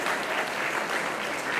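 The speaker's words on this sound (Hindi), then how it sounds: "ताली बजाइए।" Sustained audience applause fills a university hall, steady and dense clapping from a crowd throughout with no voices over it.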